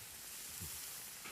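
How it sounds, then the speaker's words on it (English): Okonomiyaki sizzling steadily on a hot plate, a faint, continuous frying hiss with soft crackle and no pauses. "the sound of the sizzling hot plate and the scent of that sauce piques my appetite every time"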